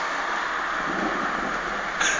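Thunder from a lightning strike in a big storm over Moulins rolls as a steady, loud, broadband rumble mixed with rain hiss, swelling slightly near the end.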